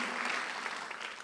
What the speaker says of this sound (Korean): 빨리 박수 하나 주세요